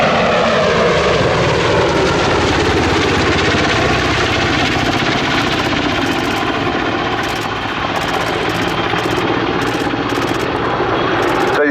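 A Merlin Mark II helicopter, a 15-ton medium utility type, flying at an airshow, its engine and rotor drone loud and continuous throughout, with a voice talking over it.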